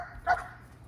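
A wolf dog gives a single short bark outdoors in a yard, moderately loud and brief against a quiet background.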